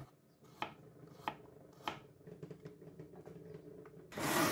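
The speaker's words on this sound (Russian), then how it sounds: "можно добавить морковь не именно соломкой, а, скажем, сделав такие срезы" A knife chops through carrot on a board, a few sharp evenly spaced cuts followed by quicker, softer ones, ending in a louder rustle.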